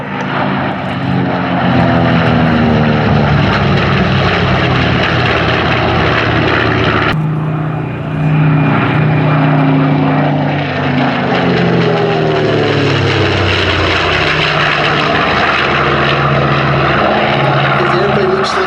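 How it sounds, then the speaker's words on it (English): A B-25 bomber takes off at the Sywell airshow with a loud, sustained roar of radial propeller engines that swells and shifts in pitch as it passes nearby. A voice speaks over it. "B-25, lifting now."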